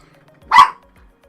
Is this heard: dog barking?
yes